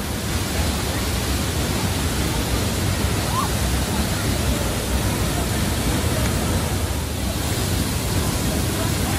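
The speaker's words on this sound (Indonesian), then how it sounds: "ini dia air terjun Blangsinya dari jarak dekat" The Blangsinya waterfall in Bali heard up close: a steady, loud hiss of falling water, constant and unbroken from start to end.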